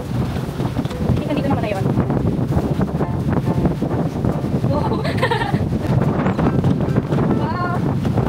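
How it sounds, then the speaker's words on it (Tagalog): Strong wind roars and buffets a microphone throughout, with people talking over the steady rushing noise outdoors in Boracay, Philippines. "Lakas ng hangin."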